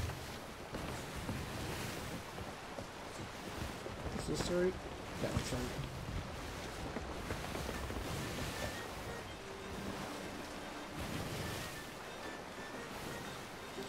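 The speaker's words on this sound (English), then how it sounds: "Oh, hello, big waves." Big ocean waves churn and wash around a sailing ship at sea in Sea of Thieves, a steady broad surf with wind noise running throughout beneath people talking.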